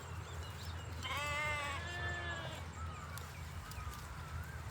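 A sheep on a farm gives one drawn-out, wavering bleat up close as the flock is let out of its pen to graze. Fainter calls follow over a steady background hum.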